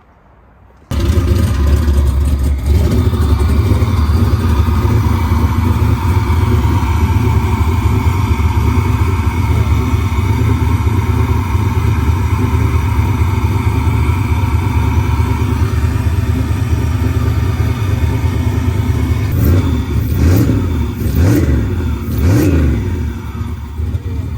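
A turbocharged LQ4 V8 engine in a Fox-body Mustang fires up and runs at a loud, rough idle close by, then revs up sharply several times near the end.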